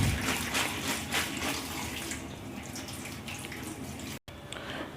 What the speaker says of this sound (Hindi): इस तरह से ऊपर से पानी डालना है आपको, ताकि थोड़ा सा नीचे से पानी सारा निकलता रहे और ऊपर से पानी आता रहे